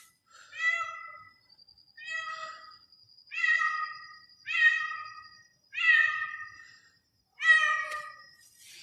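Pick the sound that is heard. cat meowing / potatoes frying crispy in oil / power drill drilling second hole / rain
cat meowing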